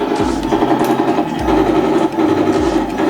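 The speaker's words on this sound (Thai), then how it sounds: "อีกเสียงหนึ่งจะเป็นปืนกลข้างล่างครับ" A close, rapid mechanical rattle buzzes in short repeated bursts: the lower machine gun sound effect of a model King Tiger tank, like a small toy machine gun firing.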